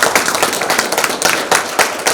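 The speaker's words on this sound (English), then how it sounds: "please welcome all three of them with a big round of applause" A room of guests at a book launch gives a short round of applause, brisk and fairly close, with individual claps standing out before it cuts off abruptly.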